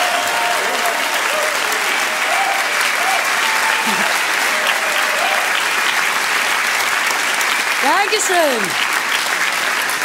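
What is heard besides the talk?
enthusiastic studio audience applause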